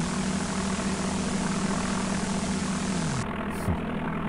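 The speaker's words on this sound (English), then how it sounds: "Let's go ahead and start our airplane up here." Airplane engine in Flight Simulator 5.1 for DOS drones steadily at a constant pitch with a low propeller hum, then winds down near the end; no talk over it.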